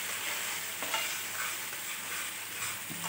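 Garlic and red chili chutney paste, a Marwari recipe, is stirred in a pan, giving a soft, continuous sizzle with scraping strokes close by and no talk.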